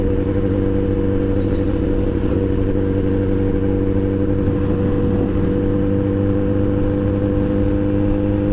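A Honda CBR 1000RR sport motorcycle with an exhaust that broke off on the road runs loudly with a harsh, droning tone, holding a steady roar with slight rises in revs over several seconds and no talk.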